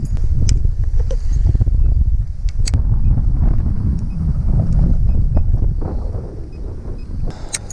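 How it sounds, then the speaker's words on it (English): Strong wind gusting during kayak fishing, a loud low rumble of buffeting against the microphone with faint water sloshing and a few sharp knocks. "Wind is blowing pretty hard now. It's currently blowing 12 miles an hour"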